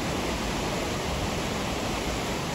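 A flooded Testene river rushing at its mouth near Agropoli, a steady, dense roar of churning water that fills the whole clip without a break, close and fairly loud, with no voices.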